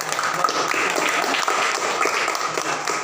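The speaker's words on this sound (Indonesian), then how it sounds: "tepuk tangan dulu untuk mereka" Students in a classroom applaud together, a dense steady wash of clapping lasting the whole stretch with faint voices mixed in.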